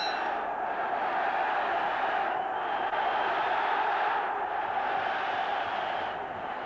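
A large boxing arena crowd at a World Boxing Association featherweight title fight gives off a continuous, dense roar of voices, steady and distant-sounding throughout.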